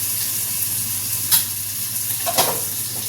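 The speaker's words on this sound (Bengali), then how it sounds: "এখানে আমি একটু জিরে ফোড়ন দেবো" Cumin seeds sizzle in a small amount of hot oil, a constant close crackling hiss with a couple of brief louder spits.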